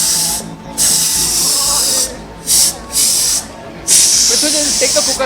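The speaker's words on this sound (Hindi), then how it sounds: "Have you seen a cold cooker whistling like this?" A pressure cooker chilled with liquid nitrogen whistles in loud, steady hissing bursts, several long blasts separated by short pauses, at a live science demonstration.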